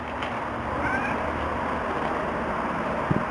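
A cat gives one short, faint meow early on against a steady background hiss, followed by a small thump near the end.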